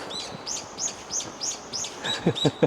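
A bird repeats a bright, rising chirp roughly every quarter second, then shifts to quicker double notes over a soft background murmur of a large river.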